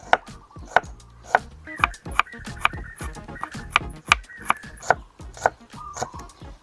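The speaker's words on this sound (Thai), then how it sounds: "แล้วเราก็มาหั่นหอมแดงกันค่ะ" A kitchen knife chops shallots on a board for Thai home cooking, giving a steady run of crisp, close knocks with light scraping between strokes and no talk.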